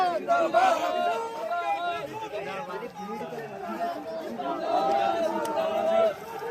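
Large crowd at a political rally in India, a dense roar of chatter and cheering voices filling the whole stretch, steady and loud with surges near the start and end.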